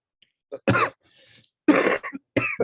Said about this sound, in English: I might be coughing a little bit because I'm having huge fevers these days